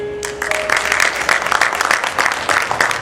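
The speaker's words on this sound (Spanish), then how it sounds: "Si usted puede aplaudir al Señor" A church congregation applauds, a loud, lively burst of many hands clapping close by, dense and steady with slight surges, following a brief tonal note at the very start.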